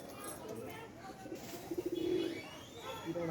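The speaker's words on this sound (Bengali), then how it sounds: "বন্ধু একটা পায়রা নেমে পড়ছে, আর একটা পায়রা" Pigeons cooing close by as birds land, a rolling throaty coo rising in the middle, heard under someone talking with faint background ambience.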